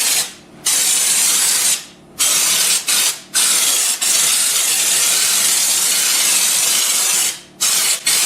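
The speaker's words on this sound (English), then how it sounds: "what he's using is Raptor liner, the spray-in stuff" Raptor spray-in bed liner blasting from a spray gun in long continuous hissing bursts, loud and close, broken by short pauses as the trigger is released, no talking.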